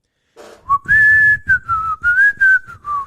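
A person whistles a wavering melody of several sustained notes close to the microphone, loud and clear, with brief breaths between phrases.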